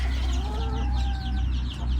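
Chickens cluck on a farm, a close run of short repeated clucks and a drawn-out call against a low background hum, with no talking.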